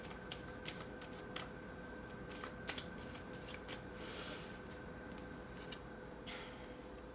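Tarot cards riffle and slap in a close, quiet room, with a run of short crisp snaps and soft sliding rustles over a low steady hum.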